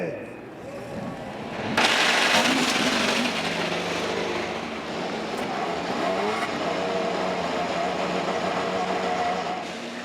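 IndyCar race car engines firing up together on the grid at Iowa Speedway, a sudden loud burst of combined engine roar that settles into a sustained rumbling idle, with a voice over the public address.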